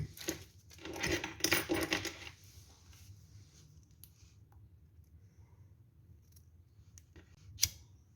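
Scissors snip nautical cord on a crochet bag in a quick flurry of close metallic clicks and cuts, then quiet, ending with a single sharp click.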